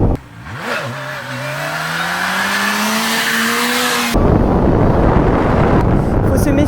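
A Kawasaki H2R turbocharged motorcycle engine revs up with a rising, steady whine for about four seconds, loud and close, then drops into a rougher, broadband roar. Wind noise is also audible.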